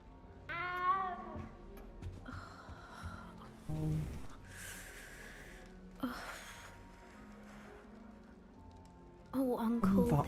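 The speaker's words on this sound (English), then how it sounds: "You don't need to be frightened, little cat." A cat in the video game Hogwarts Legacy gives several short meows and frightened cries in scattered bursts among game music and effects, with speech also heard.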